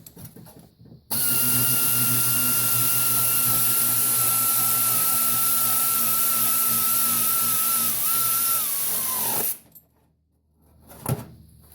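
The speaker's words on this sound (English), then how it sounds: "We're going to use our 3/8 air ratchet and snug it down." A 3/8 air ratchet whines loudly and continuously for about eight seconds while snugging down a rear shock bolt on a Nissan Sentra, then spins down and stops.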